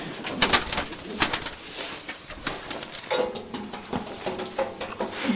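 Racing pigeons shuffle inside a loft with its aviary exit open, giving scattered taps, pattering and wing flutters in uneven bursts under faint, low cooing, with no talk.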